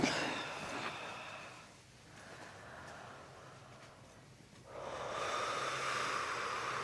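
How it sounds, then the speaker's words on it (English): During a chiropractic session, a person breathes in through the nose and out through the mouth, soft airy breaths close to the microphone with quiet room noise. "nice gentle breath in through your nose, out through your mouth"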